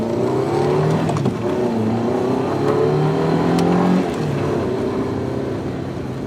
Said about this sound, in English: Her car was in the station car park. It was an Audi TT.